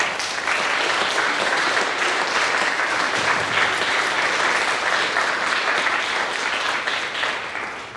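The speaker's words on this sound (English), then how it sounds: "So it's not just clapping to say thank you for sharing, it's also clapping for praising the Lord for how He is working." Sustained clapping from a church audience praising the Lord, dense and steady at full strength for about eight seconds before easing slightly at the end, with no speech over it.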